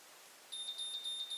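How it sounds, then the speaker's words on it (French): A Babyliss curling iron signals a finished curl with a short series of thin, high electronic beeps, several evenly spaced tones close by against a faint background hiss. "il y aura ensuite 3 ou 4 bips consécutifs et là, je peux lâcher et j'aurai ma boucle"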